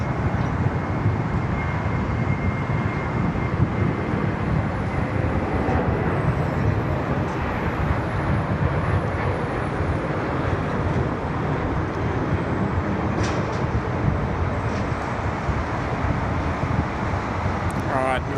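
Qantas jet taking off at Sydney Airport, a loud, sustained engine roar with a slowly rising whine, heard over wind with people talking throughout.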